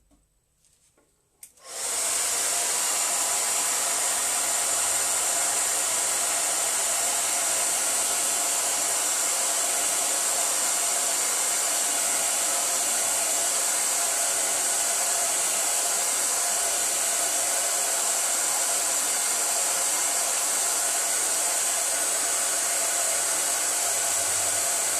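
A hair dryer blows steadily on wet paint, switching on after a brief quiet start and then holding a loud, continuous airy roar for the rest of the stretch with no talking.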